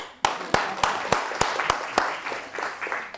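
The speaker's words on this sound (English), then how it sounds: "Round of applause." A small audience at a career talk on working as a Medical Scientific Liaison at Bayer gives a brief round of applause, a few sharp, distinct claps spaced out at first and then thinning into scattered patter.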